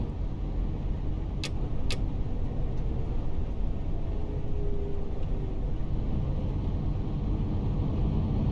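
A tour bus in Tourist Bus Simulator idles with a low engine rumble while its turn signal ticks, two sharp clicks followed by fainter regular ticks.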